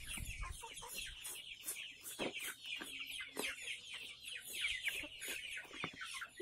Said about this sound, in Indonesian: Ini ayam Bangkok